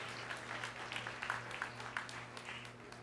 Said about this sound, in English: round of applause for all of our sponsors that made this evening possible